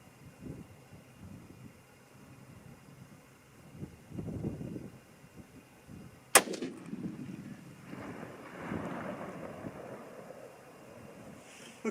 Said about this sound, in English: Third and final shot.